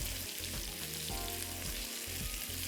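Pieces of chicken shallow-fry in a small amount of oil for Chinese lemon chicken, giving a close, continuous crackling sizzle with a soft stirring clatter and no voices.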